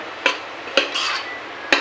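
A spoon stirs urad dal inside a pressure cooker with a soft scraping sound, broken by three sharp knocks against the side, close by and fairly loud.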